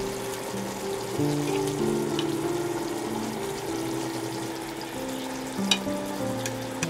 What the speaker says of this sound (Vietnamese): Để bầu nó sôi khoảng 1 phút nha.